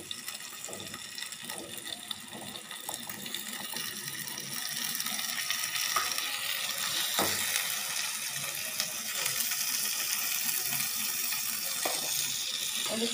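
Green peas tipped into a hot pan for matar paneer give a steady broadband sizzle and watery hiss that grows a little louder midway, with faint clicks of stirring and no voices.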